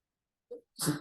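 A single human sneeze in a quiet room, a faint inhaled catch followed by one short, sharp burst, close and alone.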